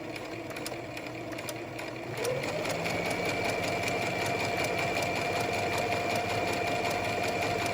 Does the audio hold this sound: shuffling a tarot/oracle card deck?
no